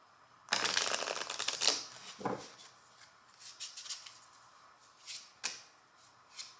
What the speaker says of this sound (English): Just shuffling up the defense deck.